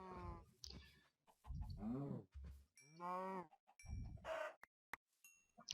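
Blocky Minecraft Feed The Beast cows give several drawn-out moos, spaced apart and fairly quiet, with a few short chicken clucks and soft farmyard clicks between them and no voices.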